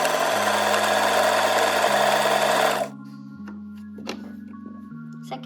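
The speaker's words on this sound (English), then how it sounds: "We have 4 steps to make a buttonhole." A sewing machine stitches a buttonhole on a custom-fitted dress shirt, whirring in a steady, dense run for about three seconds before stopping abruptly, while soft music continues alone afterward.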